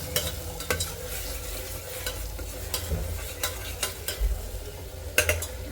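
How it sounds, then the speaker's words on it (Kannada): Pepper, cumin and coconut roasting in a pan for temple-style khara pongal, a soft continuous dry sizzle with scraping stirs and light clinks of a spatula, close and steady with no talk. "ಮೆಣಸು, ಜೀರಿಗೆ, ತೆಂಗಿನಕಾಯಿ ಇದನ್ನು ಹುರ್ಕೊಂಡಿದ್ದನ್ನು ಈಗ ನಾನು ಹುರಿತಾ ಇದ್ದೀನಿ"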